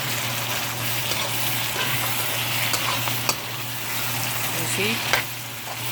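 Shrimp sizzling in a pan as they are stirred, a constant loud frying hiss with a few sharp scraping clicks and a low steady hum beneath, while a voice speaks briefly.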